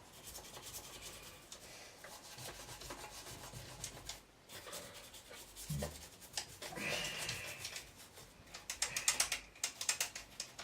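A toothbrush dipped in isopropyl alcohol scrubbing parts of a Garrard turntable, quiet rapid bristle rubbing and scratching in uneven bursts, close up, getting busier and louder toward the end, no talking.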